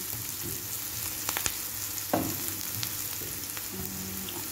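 Garlic and onion sauté in a pan for macaroni with sweet corn, giving a continuous close crackling sizzle, broken by a few scraping stirs and light clinks.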